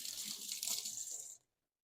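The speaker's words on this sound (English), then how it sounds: "We're gonna rinse it quickly." Cucumbers rinsed under a running kitchen tap, a close, steady hiss of flowing water that lasts just over a second and then cuts off abruptly into silence.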